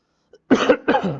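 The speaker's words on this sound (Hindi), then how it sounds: "थोड़ा सर्दी जुकाम में बार बार खांसी आ रही है।" Two harsh, close coughs in quick succession after a small throat sound, from a man with a cold.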